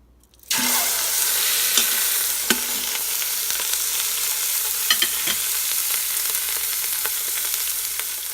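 A roast beef sears in an Instant Pot on saute mode, starting with a sudden loud burst of sizzling that stays steady and close, with occasional scrapes and taps from a utensil and no talking.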